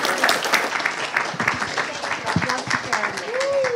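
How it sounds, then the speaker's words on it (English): Conference audience at a spiritual gathering applauding, a dense steady wash of clapping that runs throughout, with a voice talking over it near the end. "Let's give her another round of applause, you guys."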